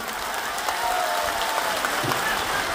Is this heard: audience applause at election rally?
yes